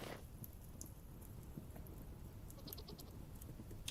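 A male goat in a hay-filled pen gives faint, scattered bleats over low background noise, distant and quiet throughout.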